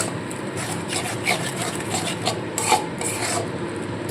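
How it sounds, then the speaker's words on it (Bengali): A spice paste with dried and green chilli and a little sugar is stirred and fried in a pan on lowered heat for a rohu fish curry with onion flower stalks, giving a steady scraping, rasping sizzle with soft bumps, alone throughout. "এবার খুব ভালো করে মশলাটাকে কষিয়ে নেব"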